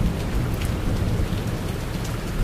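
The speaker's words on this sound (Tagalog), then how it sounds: "Maya-maya, palakasan ng palakas yung ulan." Heavy, steady rain pours down deep in the mountains, a dense unbroken hiss with a low rumble of thunder underneath, loud and close throughout.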